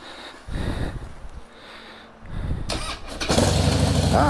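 A 2008 Harley-Davidson Heritage Softail Classic cranks over in short bursts, then catches and settles into a loud, close idle with no voices.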